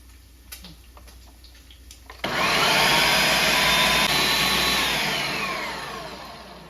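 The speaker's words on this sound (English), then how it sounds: "And now we blend." Kitchen blender switching on to purée refried beans with fried onions: a few light clicks, then a sudden loud whirring roar that runs steadily and eases slightly toward the end, close by.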